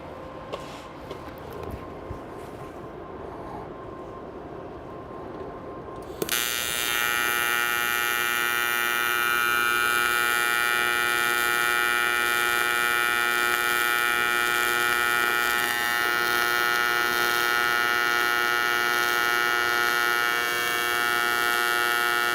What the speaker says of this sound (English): he's going to go ahead and make a fillet weld on the lap joint here on some aluminum